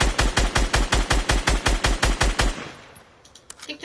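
Rapid, evenly spaced gunshots, about sixteen loud booming reports, hit a target in a video game in one quick burst, then stop, leaving a faint low background with a few light clicks.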